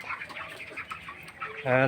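A flock of broiler chickens on a poultry farm clucking and peeping nearby, busy overlapping calls, with a voice starting at the end.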